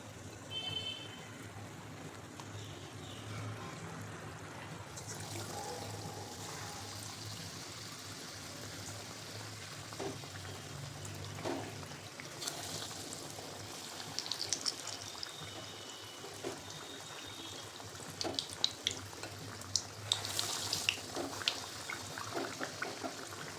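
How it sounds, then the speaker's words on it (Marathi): Vada frying in hot oil for street-style vada pav, a steady sizzling hiss with occasional louder crackles and bubbling bursts as the fritters cook. "तेल आता छान तापलेले आपल्याला वडे टाकायचे"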